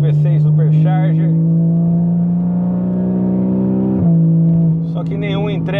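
Porsche Cayman S with a 3.4 engine and straight exhaust gives a loud, steady droning roar held at near-constant pitch, briefly dipping and resuming, with someone talking over it at the start and end.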